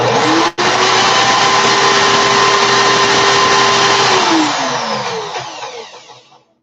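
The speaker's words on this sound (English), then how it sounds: "put my drill in reverse and reverse it a bit so I can loosen this up" A cordless drill runs in reverse to loosen coiled wire during a coil build, a loud steady whine that holds for several seconds after a brief click, then winds down as the motor slows and stops.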